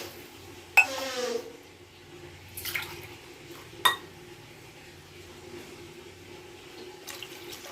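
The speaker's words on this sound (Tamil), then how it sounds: "இப்போ தேவையான அளவு தண்ணி ஊற்றிக்கலாம்" Water goes into a cooking pot for semiya, a soft running trickle with a few sharp metallic clinks of utensils against the pan.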